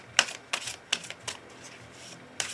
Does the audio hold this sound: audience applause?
no